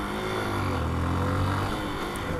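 A Honda CB125F single-cylinder motorcycle engine runs smoothly and quietly, its low, steady drone close by without sharp revving.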